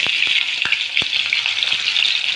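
Pieces of rohu fish fry in hot oil in a wok over a high gas flame, giving a loud, steady hiss with frequent sharp pops and crackles.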